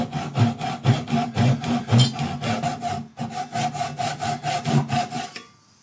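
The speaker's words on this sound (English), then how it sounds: "Normally you wouldn't cut across the grain with a tenon saw, but it's a very small cut." A tenon saw cuts across the grain of a wooden tenon in fast, even rasping strokes, close and loud, with a brief pause midway before the sawing resumes and then stops.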